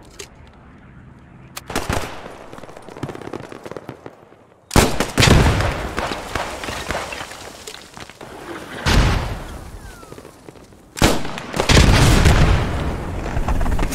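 Loud explosive blasts in the game Post Scriptum erupt in bursts, with sharp booms and crackling gunfire-like bangs separated by quieter stretches of rumbling background noise.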